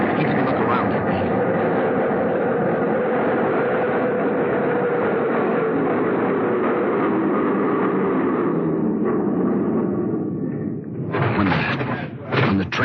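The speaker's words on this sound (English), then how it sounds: "When the train stopped," Old radio drama sound effect of a train running on rails: a steady, loud rolling rumble with faint clickety-clack, fading slightly as the train slows, then someone speaks over the end.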